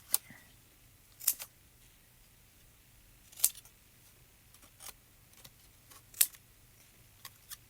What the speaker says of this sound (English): Just take scissors and cut that little piece right there.